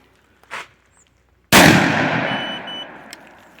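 A single loud, sharp rifle shot cracks out after a faint earlier click, then rings and decays over about two seconds, during a gunpowder test.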